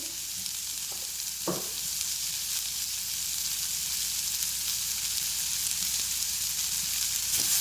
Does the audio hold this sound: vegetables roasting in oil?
yes